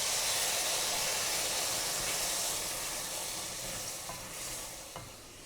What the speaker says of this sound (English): then I'm going to slowly add 600 ml of chicken stock